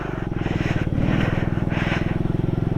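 A motorcycle chugs along on snow with a close, throbbing single-engine beat that pulses steadily throughout, briefly swelling as the rider pushes it.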